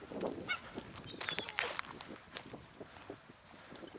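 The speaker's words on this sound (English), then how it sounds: "You've got Norwegian seagulls," Large Norwegian seagulls at a peaceful spot in the Arctic Circle, a few honking, squawking calls at moderate distance over faint rustling and footstep-like sounds.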